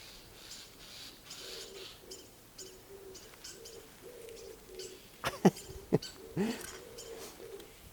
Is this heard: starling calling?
yes